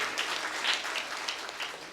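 An audience at a devotional program applauds the students present, a dense, steady wash of many hands clapping together at moderate volume with no talk over it.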